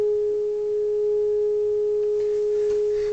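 Steady, pure test tone from a Uniden 2020 radio during RF alignment, holding one constant pitch throughout with faint background hiss and no talking.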